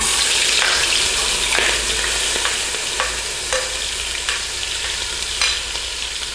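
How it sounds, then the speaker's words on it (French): Onions frying in a pan on the stove: a steady, loud sizzle with no break, marked by a few soft scraping stirs at regular intervals. "Nous allons commencer à mettre les oignons au feu"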